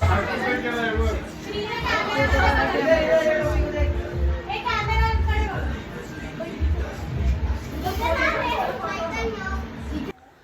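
A packed first birthday party crowd, with children playing and shouting over steady adult chatter and babble, loud and close throughout.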